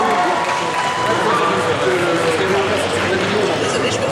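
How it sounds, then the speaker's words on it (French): Audience at a Sunday cosplay contest at SF Connexion 2025 applauding loudly for a duo, a dense, continuous clapping roar with crowd noise close throughout. "Thibaut et Céleste, on les applaudit très fort"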